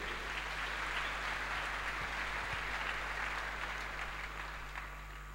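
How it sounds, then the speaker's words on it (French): Church congregation applauding after a call to acclaim the word of God, a steady broad wash of clapping lasting throughout, fairly distant and even, easing slightly toward the end, with a low hum underneath. "Acclamons la parole de Dieu."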